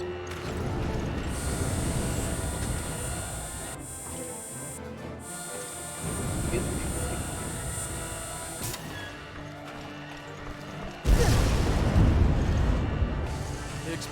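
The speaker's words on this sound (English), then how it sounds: "explosions have started" Continuous heavy rumbling and roaring with layered booms, then a sudden louder burst of explosive noise near the end, explosions aboard a ship in Resident Evil: Revelations.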